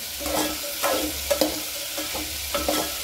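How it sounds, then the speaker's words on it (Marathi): Bean pods being stirred into hot tempering in a pan give a continuous sizzle, with a few scraping stirs of a spatula, close up and clear, no voices. "फोडणी टाकल्यानंतर त्याला छान फोडणीमध्येच मिक्स करून घ्यायचं आहे."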